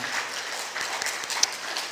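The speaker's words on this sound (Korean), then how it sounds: "여기까지 인도하신 하나님께 영광의 박수 올려드리겠습니다" A church congregation applauds during a Sunday service marking the church's anniversary; the clapping is soft, steady and somewhat distant, filling the short stretch with a diffuse wash of hands and a few sharper claps.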